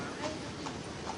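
Horse hooves clip-clop steadily on pavement as a tour carriage horse passes in Belgium, about three distinct hoof strikes with voices in the background.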